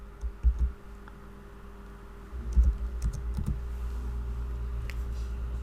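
Someone types on a computer keyboard while adding an extension in a browser, giving irregular soft clicks and a few louder taps over a steady low electrical hum.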